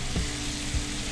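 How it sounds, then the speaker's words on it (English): Pork meat sizzling steadily in a hot cast iron pan over medium-high heat, a continuous close crackle with a couple of soft stirring scrapes. "You hear that nice sizzle? That's what we want."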